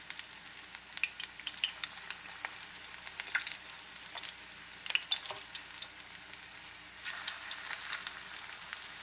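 Diced onion patties frying in a pan over slightly lowered heat, a soft continuous sizzle dotted with sharp pops and crackles, fairly quiet and with no voices.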